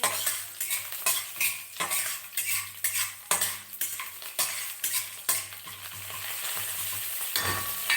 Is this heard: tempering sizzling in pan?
yes